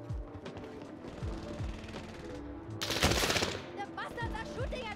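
Gunfire in the Call of Duty Warzone video game comes as quick rattling bursts of shots, with a denser, louder volley in the middle, under ongoing game sound and voices.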